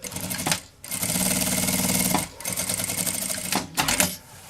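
A sewing machine stitching a travel toiletry bag, running in loud continuous bursts of rapid needle clatter, with short pauses between runs, close up and with no voices.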